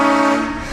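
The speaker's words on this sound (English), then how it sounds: "Filming a video of train horn pranks" A train horn blasts loud and close as a prank, one continuous harmonic blare that starts at full force and holds steady before easing slightly toward the end.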